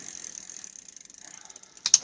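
Bicycle gears shift on a bike being cleaned, giving a quiet ticking ratchet of the freewheel followed by a couple of sharp metallic clicks with slight grinding as the chain moves across.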